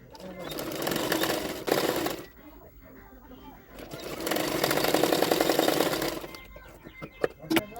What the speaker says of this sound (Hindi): उसके पीछे की तरफ इस तरह से फोल्ड करते हुए और एक सिलाई डाल दूँगी।